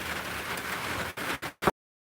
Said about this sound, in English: It's getting too rainy.